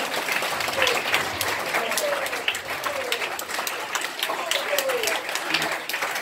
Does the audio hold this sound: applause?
yes